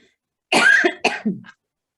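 Someone coughs twice in quick succession, close and sharp, followed by a faint little throat sound, then silence.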